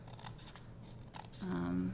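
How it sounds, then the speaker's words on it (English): Small craft scissors trimming paper edges flush with a junk journal cover, a few quiet snips under soft talk before a louder voice comes in near the end. "I'm going to take my little scissors and just trim this up"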